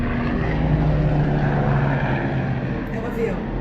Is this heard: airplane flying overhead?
yes